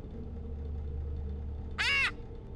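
A single loud, harsh caw from a bird rings out once in the video game Ultimate Custom Night, rising sharply over a low humming background and fading after about half a second.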